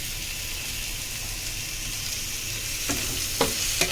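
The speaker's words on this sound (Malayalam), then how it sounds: "തക്കാളി ഇതുപോലെ ഇതിലിട്ടിട്ട് തന്നെ നമുക്ക് വഴറ്റിയെടുക്കാം" Tomatoes sautéing in a pan for a beef masala dish, a steady close sizzle and frying hiss throughout, with a few brief scraping stir strokes near the end.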